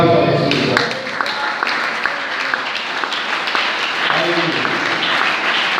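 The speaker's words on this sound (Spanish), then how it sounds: "Denle un aplauso a Jesús." A church congregation applauds for Jesus, a dense burst of clapping that starts strong and stays fairly loud, with a voice and some musical tones mixed in, one of them rising briefly near the end.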